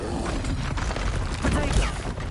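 Confringo fire spell blasts in Hogwarts Legacy, a loud continuous burst of explosive booms and crackling over dense game combat noise, with a shouting voice under it.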